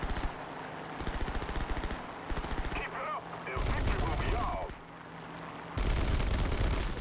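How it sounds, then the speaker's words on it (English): Rapid machine-gun bursts and heavy tank cannon booms in War Thunder tank combat, with repeated loud rattling volleys broken by short pauses and a deep blast near the end. "He's still taking shots at me and getting some hits."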